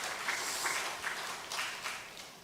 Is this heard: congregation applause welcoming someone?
yes